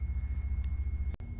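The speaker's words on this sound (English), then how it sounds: "If you hear that noise in the background, it's an airboat." An airboat's engine rumbles low and steady in the background near a boat ramp at a campsite, a faint throbbing drone that lasts through the short stretch.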